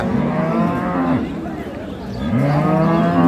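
A dairy cow at a cattle market lets out two loud, close, drawn-out moos, one after the other, with crowd noise behind them.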